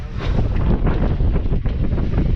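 Steady, strong wind buffets a sailboat under sail, rushing and roaring continuously across the whole stretch with gusty swells and no voices.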